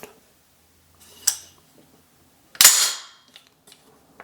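The bolt carrier of an assembled PSA AR-15 pistol is released and slams forward with one sharp, loud metallic clack, after an earlier lighter click and a few faint handling taps.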